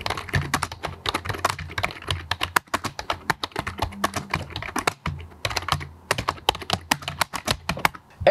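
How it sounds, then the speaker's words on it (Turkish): Fast, steady typing on a Razer Ornata V3 X keyboard, with dense, irregular key clicks close up and clear, continuing without any talk for several seconds. "Hatta çok kısa bir klavyenin çıkardığı sesi bir size göstereyim."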